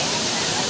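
Bhagsunag waterfall roars as a dense, loud, close wash of falling water filling the whole short clip.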